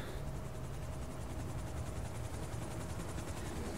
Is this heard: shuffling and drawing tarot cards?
no